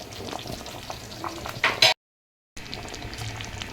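Chicken gravy simmers in a covered pan with steady sizzling and bubbling, a brief louder burst and a short moment of silence midway.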